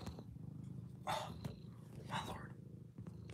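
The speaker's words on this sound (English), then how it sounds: "I have a cat that might be joining us." A house cat purrs softly and close by, a low continuous rumble under two brief breathy rustles, heard in a quiet room.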